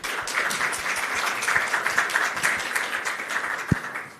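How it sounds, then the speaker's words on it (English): An audience at a panel session on energy measurement applauds its panelists, a dense, close patter of many hands clapping steadily for several seconds with a few sharper claps standing out. "give more round of applause to our panelists here"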